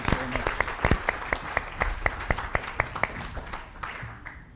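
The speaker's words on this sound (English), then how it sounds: "a big round of applause for Wayne and his guests" Audience at the Pebble Beach Classic Car Forum applauds Wayne Carini and his panel guests, a moderate crowd clapping steadily with a few crisp, prominent claps up close, fading toward the end with some talk underneath.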